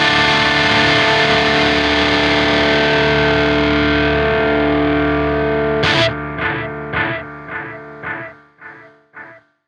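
Distorted electric guitar chord struck once and left to ring, a loud thick sustained wall of sound that fades, then cut off into a series of short choppy stabs that taper away.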